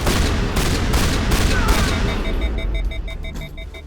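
Shotgun blasts and gunfire in the video game Mass Effect, a dense rapid volley of loud close booms for about two seconds, then a steady electronic beeping tone pulses over fading rumble.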